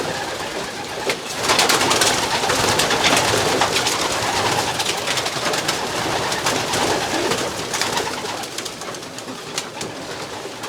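Pigeons coo and flutter in a busy loft of racing pigeons, a steady dense wash of bird sounds with soft rounded calls throughout.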